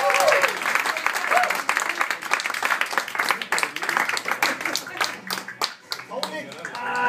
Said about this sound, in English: Give him a rush of applause for me.